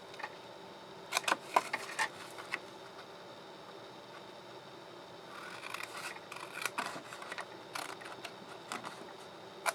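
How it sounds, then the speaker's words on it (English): Paper snips cut through card for a folded Ferrero box, giving crisp, close snipping and rasping in irregular bursts across a quiet background with no talking. "So just come in with your paper snips and snip those away."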